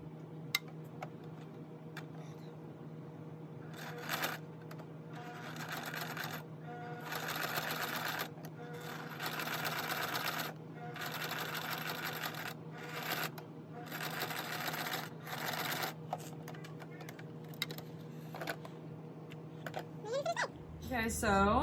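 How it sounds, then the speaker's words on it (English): Sewing machine stitching through thick fabric for an IV cover bag, a steady close mechanical whir in bursts with brief pauses between runs, sitting over a constant low hum. "it might be kind of difficult to sew the fabric."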